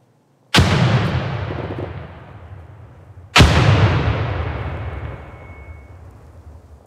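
Two heavy frag grenade blasts in America's Army 3 basic training, each a sharp, loud crack that rolls into a long booming decay lasting a couple of seconds, spaced about three seconds apart with no talk.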